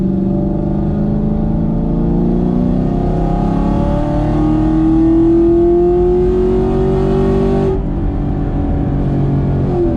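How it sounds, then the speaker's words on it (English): A 2018 Chevrolet Camaro Gen V engine revving loud and close, pitch climbing through the rev range before a sudden drop as it downshifts, then a lower steady drone. "I will say the downshifts sound really good now."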